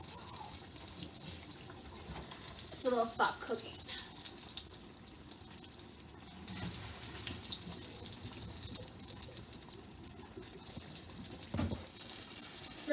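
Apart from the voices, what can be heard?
water draining from boiled potatoes in a strainer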